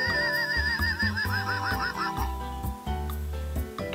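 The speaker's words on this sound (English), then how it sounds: "This is a horse." A horse whinnies in a long wavering call that rises and falls, with steady music playing underneath throughout.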